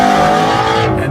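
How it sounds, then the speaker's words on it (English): A 2016 Ford Mustang Shelby GT350R with a flat-plane V8 revs up on a quick throttle blip, a loud close engine roar with a rising then settling pitch that fades over about a second. "They respond quickly to blips of the throttle, so I can just blip the throttle and it goes"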